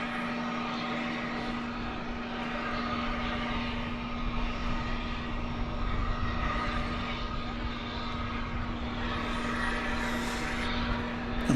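A Frontier Airlines airplane at DFW Airport, a steady distant jet engine roar with a constant low hum running throughout, fairly even in loudness across the whole stretch, with faint high whines near the end.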